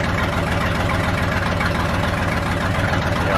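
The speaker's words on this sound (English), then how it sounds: "I'm gonna get it to idle and maybe play with the timing until it's happy" A Ford F350 pickup engine, revived after sitting abandoned for 28 years, idles steadily with a rough, even low rumble and faint knocking pulse, close and constant throughout with no talking.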